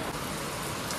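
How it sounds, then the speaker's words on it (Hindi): Heavy rain pours down during a red-alert downpour in Lakhimpur Kheri, India, a dense, steady hiss of drops on surfaces at moderate loudness, with no voices over it. "इतनी जबरदस्त बारिश हो रही है ना यहाँ पे"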